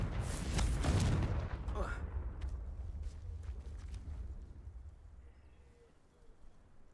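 A Confringo spell blast in the Hogwarts Legacy video game: one heavy, deep boom at the start that slowly rumbles and fades away over several seconds.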